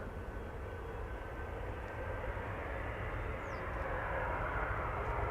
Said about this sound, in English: This is KLM flight 751, 777-200.